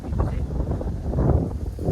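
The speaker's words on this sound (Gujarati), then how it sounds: "એટલે પવન આવે છે" Low, steady wind rumbles and buffets close against the microphone in a cotton field, with gusts rising and falling throughout.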